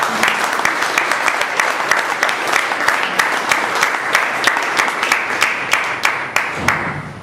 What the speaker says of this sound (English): A big round of applause to these committee members.